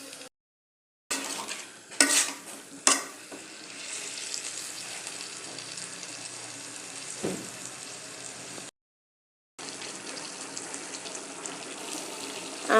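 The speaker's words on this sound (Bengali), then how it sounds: "একটু নাড়াচাড়া দিয়ে নিতেছি, নাড়াচাড়া দিয়ে ঢাকনা দিয়ে ঢেকে দিব।" Fish and winter vegetables stirred in a pan, with spoon scrapes and a soft sizzle running steadily, broken by a few louder clatters early on and two brief silent gaps.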